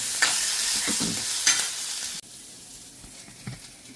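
Curry leaves and dried red chillies frying in hot oil, a bright continuous sizzle with stirring scrapes that drops to a quieter crackle halfway through.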